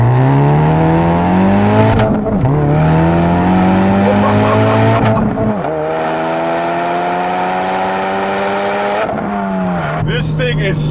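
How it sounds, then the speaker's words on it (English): A 2017 Ford Focus RS with 360 whp and 420 wtq launches hard under launch control, its loud engine climbing through rising gear pulls with sharp shift breaks, tires squealing and the car racing away, continuous and close. "Now of course this also has launch control"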